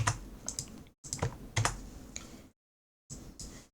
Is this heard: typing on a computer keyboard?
yes